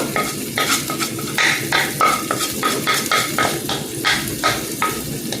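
Mackerel frying in a pot of tomato gravy, stirred with a utensil that scrapes and clinks in a steady rhythm over a loud, continuous close-up sizzle.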